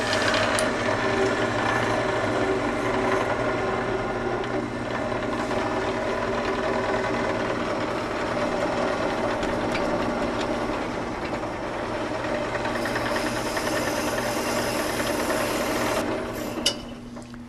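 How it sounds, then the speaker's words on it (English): A wood lathe set at 1500 spins while a twig vase with pegs is turned, a steady close mechanical hum with a faint rhythmic rattle running continuously, ending in a brief sharp click. "Okay, got the lathe set at 1500."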